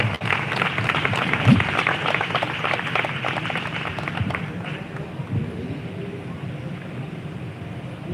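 A church congregation claps together in sustained applause, dense and fairly close, holding steady for several seconds and then thinning out toward the end.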